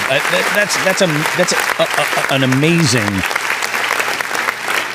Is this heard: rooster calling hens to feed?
no